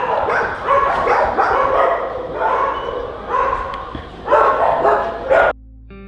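Dogs at an animal shelter barking and yipping in repeated clustered outbursts, loud and close, with some whimpering between barks before the sound cuts off abruptly.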